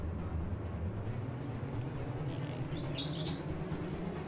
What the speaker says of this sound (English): Yes, I'm sure you guys can hear the bird.